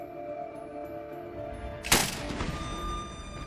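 A single sharp gunshot cracks out of a muffled, noisy room recording, followed by a brief scattering rattle of a bathroom mirror shattering as the noise settles back.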